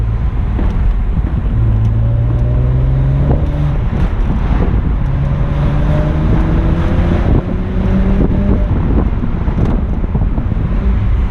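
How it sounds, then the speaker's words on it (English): A 2008 BMW 135i E82 convertible driven with the top down gives a loud, steady exhaust drone, rising and falling in pitch through gear changes, with heavy wind rush over the microphone throughout. "Especially with the top down, you know, you get so much more activity. You get the exhaust noise."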